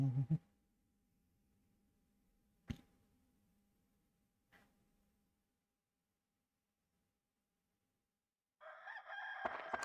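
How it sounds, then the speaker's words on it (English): A rooster crow from the video game Dark Cloud, a short digitized cock-a-doodle-doo bursting in loud near the end, after a few faint clicks and a low hum over a mostly quiet stretch. "Remember the bygone days of dealing with the chicken sound effect?"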